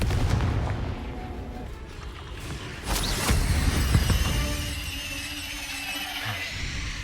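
Confringo fire-spell blasts in the Hogwarts Legacy video game burst out as sharp explosive booms among crackling mechanical combat effects, a loud cluster of hits mid-way trailing into fizzing energy and fading clatter.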